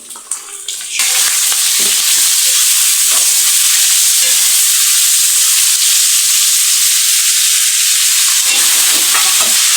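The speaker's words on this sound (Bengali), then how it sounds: "এখন আমি এই যে মশলাগুলা পেঁয়াজ রসুন কাঁচামরিচ আগে কেটে রাখছিলাম এখন আমি এগুলো দিয়ে দেবো" Chopped onion, garlic and green chilies dropped into hot oil in a frying pan burst into a loud, continuous sizzle after a few soft clatters, then the fierce hiss holds steady to the end without any speech.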